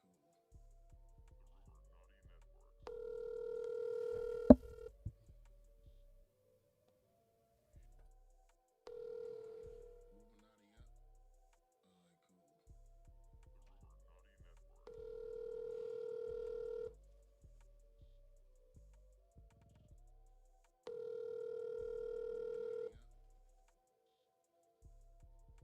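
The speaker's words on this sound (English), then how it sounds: "Your call has been forwarded to voicemail." A phone call ringing out before going to voicemail: four evenly spaced, two-second ring tones separated by quiet gaps, heard alone over faint low background ticking.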